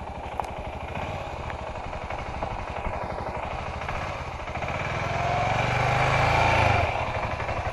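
An adventure motorcycle engine revs during off-road training at Labertouche, Victoria, a rough mid-distance drone that rises and swells toward the end before easing back.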